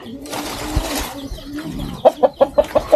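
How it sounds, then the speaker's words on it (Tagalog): A chicken on a farm clucks in a quick rhythmic series of six short, close, fairly loud clucks at the end, after a stretch of rustling outdoor noise. "May manok."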